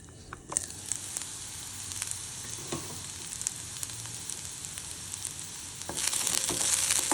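Bitter gourd (karela) sabzi steaming under a lid in a pan, a steady soft sizzle and faint crackle running throughout, with a brief clatter early on and the sizzle growing brighter near the end.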